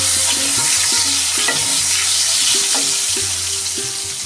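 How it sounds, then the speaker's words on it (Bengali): Salted, turmeric-rubbed eggplant frying in hot mustard oil, a loud continuous crackling sizzle close by, with a low rhythmic tone underneath and no voices. "তেল গরম হয়ে গেছে এখন আমি বেগুনটা ভেজে নিচ্ছি"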